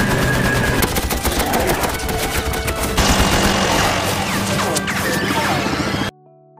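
An anime battle scene in which modern firearms cut down troops with iron shields: dense rapid bursts of machine-gun fire mix with crashes and impacts, loud and nonstop, then cut off abruptly near the end.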